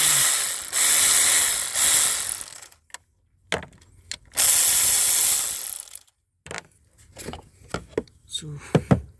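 A ratchet removing a bolt on a car's EGR valve: two long, loud bursts of rapid clicking, then a run of short, sharper clicks and clanks close by.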